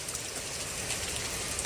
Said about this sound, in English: there's just more and more rain just falling down